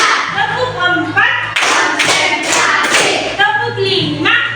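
Children in a classroom play a rhythmic clapping game, with bursts of group hand claps between stretches of chanted counting, loud and close.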